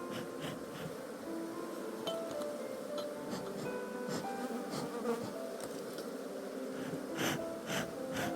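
Dense, continuous buzzing of many aggressive honeybees close by an opened hive, a steady droning swarm with occasional louder passes, no talking.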